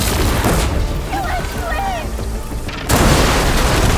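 A deep, booming detonation in the video game Horizon, rolling under a continuous roar, with a sharp louder burst near the end and a voice calling out.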